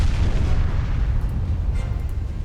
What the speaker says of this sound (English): Got torpedo hits on Tsarevich.